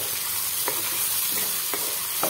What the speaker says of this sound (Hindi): और इसे भी हम फ्राई कर लेते हैं।